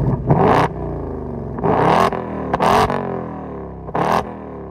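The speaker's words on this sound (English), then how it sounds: "that exhaust sounds fantastic" A 2024 Ford Mustang Dark Horse with active valve exhaust, revved in four sharp bursts separated by pauses, each a loud throaty roar that climbs and drops back to a deep burbling idle, close by.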